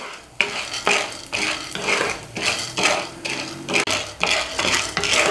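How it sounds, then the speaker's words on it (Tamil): Lentils being dry-roasted in a pan over a medium flame, a spoon stirring and scraping them in steady repeated strokes with clinking against the metal, close and clear with no talk. "ஒரு மீடியமான தீயில வச்சு நல்லா கலந்து கொடுங்க"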